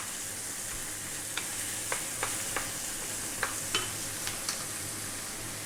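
Canned whole plum tomatoes are broken up roughly in a hot pan under a constant hiss of sizzling. Scattered clicks and scrapes from a utensil against the pan sound several times.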